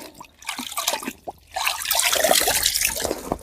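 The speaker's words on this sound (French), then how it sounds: "Le mieux c'est je mouille mes affaires." Clothes being soaked in a river by hand, with irregular splashes and sloshing water that grow into a fuller, continuous wash of moving water.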